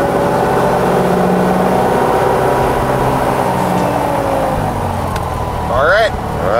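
A Piper Cherokee light aircraft's engine runs before takeoff, a steady low droning rumble heard close inside the cabin while a person talks over it, with a brief surge near the end.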